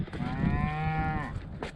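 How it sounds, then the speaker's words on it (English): A cow lets out a long, drawn-out moo, close and clear, over a low murmur of other cattle and outdoor noise. "Cows."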